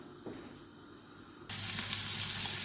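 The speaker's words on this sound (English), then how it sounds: "Now we're going to sear our lamb." Lamb hitting a hot pan, a quiet kitchen hum that suddenly bursts into a loud, continuous close sizzle halfway through.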